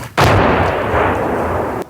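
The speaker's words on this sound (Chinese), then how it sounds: "又有炮弹落在前方不远处，炮袭声很快变得密集。" Artillery shelling near Bakhmut booms out in one loud, sustained blast that rolls on for over a second and a half before cutting off, close and heavy with no voices.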